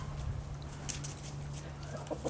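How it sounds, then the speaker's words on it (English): A backyard hen clucks in short, scattered bursts over a steady low hum, heard at moderate distance among other large chickens. "Here's one of our own chickens."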